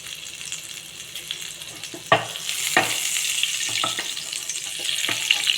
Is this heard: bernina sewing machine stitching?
no